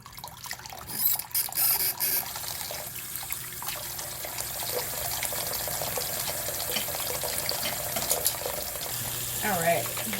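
Hot water runs steadily from a tap into a sink while face brushes are rinsed, a continuous splashing rush with occasional clatters and a voice speaking faintly in places.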